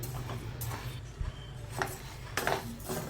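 Roasted rice being scooped and scraped out of a hot pan with a metal utensil, giving a few soft scrapes and light clinks against steady background hum.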